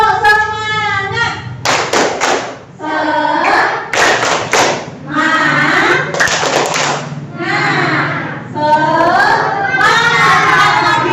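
Schoolchildren in a classroom do a rhythmic clapping cheer, sharp claps in patterned bursts alternating with chanted voices.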